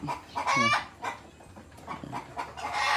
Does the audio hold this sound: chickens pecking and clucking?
yes